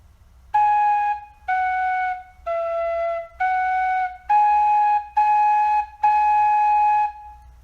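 A Thai bamboo flute (khlui) plays seven sustained notes in a slow, stepwise melody, each note separated by short pauses, clear and alone.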